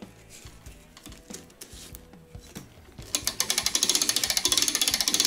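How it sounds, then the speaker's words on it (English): Vintage 31-day Korean wall clock mainspring being wound, its ratchet and pawl clicking: softer irregular clicks at first, then from about three seconds a loud, fast, steady run of sharp close clicks. "Continue winding the spring up so we can put clamp on the bottom to hold it."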